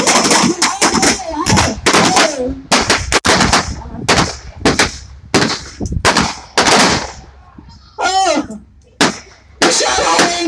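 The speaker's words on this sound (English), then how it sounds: "Oh, that guy's shooting from the ground!" Gunshots ring out at a cowboy show, a rapid series of loud, sharp cracks with short echoing tails, some in quick pairs, while a voice speaks between them.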